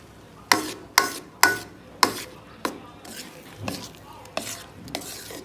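A spoon stirring coconut sticky rice simmering on low heat in a pan, repeated scraping strokes at a steady rhythm with a soft bubbling sizzle underneath, close and fairly loud.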